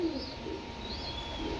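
A pair of pigeons for sale coos softly and steadily at close range, the low burbling calls continuous through the whole short stretch against a faint background hum.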